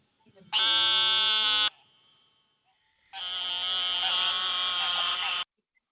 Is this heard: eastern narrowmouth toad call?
yes